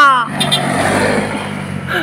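A small scooter engine revs and whines close by, the pitch rising and falling over about two seconds.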